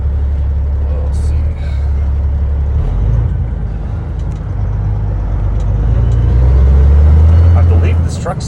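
A truck with nearly 700,000 miles on its original manual transmission drives down the road: a steady, loud low engine rumble with audible shifts and a swelling pull toward the end, heard close from inside the cab.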